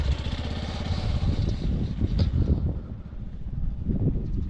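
A Chinese RFZ 250 motorcycle engine runs close by with a steady, rough low throb and mild fluctuations in revs. No voices are heard over it.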